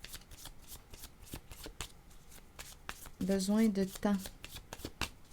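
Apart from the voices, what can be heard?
shuffling a deck of cards for a card reading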